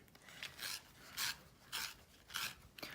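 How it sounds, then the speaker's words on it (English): A colored pencil being sharpened in a handheld adjustable-length sharpener, heard as five short, close rasping grinds in a regular rhythm with brief pauses between them. "I use the Tegall sharpener that you can pick your length"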